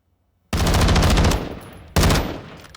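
VHS-2 fire in Call of Duty Modern Warfare II: a loud, close burst of rapid automatic shots lasting about a second, a brief pause, then a second shorter burst.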